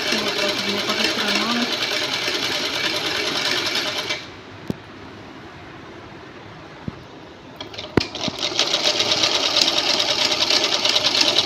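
Sewing machine stitching fabric cut from spare old clothes: steady, fairly loud mechanical whirring with a pause midway, under a voice talking throughout.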